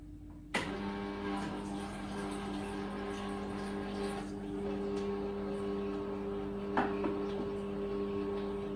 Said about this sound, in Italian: faccio andare il motore soltanto con dell'acqua